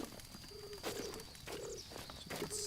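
Repeated soft cooing from a bird in The Legend of Zelda: Breath of the Wild, three low steady coos spaced about a second apart over a faint ambient game background.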